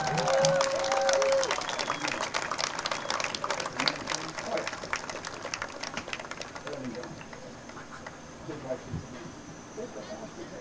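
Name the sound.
applause for Connellsville seniors at soccer game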